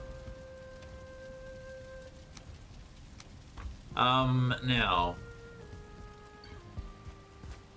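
Steady rainfall in the Valheim video game, a soft continuous hiss throughout, with someone briefly speaking over it in the middle.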